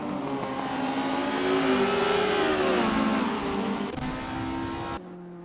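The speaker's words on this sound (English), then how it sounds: "The engines roar, the tires squeal" Race car engines roar and rev continuously in Assetto Corsa sim racing, with a Ford Escort RS1600 and Alfa Romeo GTAM, pitch rising and falling through gear changes, loud and close, ending with an abrupt shift in tone.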